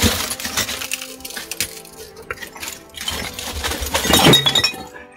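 Glass bottles and loose wire clink and rattle inside a stone cavity, a busy jumble of chinks and small crashes that swells into a louder clatter near the end.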